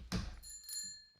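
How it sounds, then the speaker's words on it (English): A small bell, like a bicycle bell, rings once with a dull thunk at the start, and its bright tone hangs and fades over about a second. "Stupid Bell."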